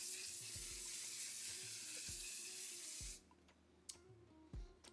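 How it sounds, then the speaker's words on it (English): One Size mattifying waterproof setting spray misted onto a face, a steady hissing spray lasting about three seconds, close and loud, followed by faint handling clicks. "So I'm going to go in with the One Size Mattifying Waterproof Setting Spray."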